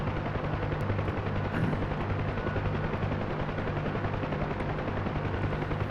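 A helicopter rotor in the DCS World flight simulator, lifting into a hover: a loud, continuous rhythmic thudding of blades over a dense engine roar, close and steady, without talk.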